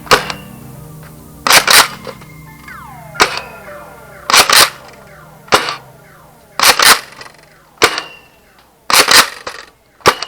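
A Nerf Fortnite Heavy SR dart blaster fires foam mega darts with no barrel attached. Sharp, close pops come one after another, a dozen or so in quick pairs and singles spread across the stretch, with mechanical clatter between shots.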